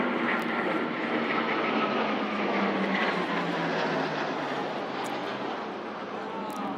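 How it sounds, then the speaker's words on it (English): Military aircraft roar past in the Trooping the Colour fly-past, a loud, steady broadband engine rumble sustained throughout with a slowly sliding pitch as the formation passes overhead. "Behind that will come the Lightnings, and of course all these aircraft go at different speeds"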